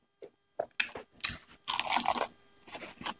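Crisp, crunchy bites and chewing on freshly fried, crispy chicken, heard close up as several sharp crunches in quick succession followed by a longer burst of crackling chews, with no talking.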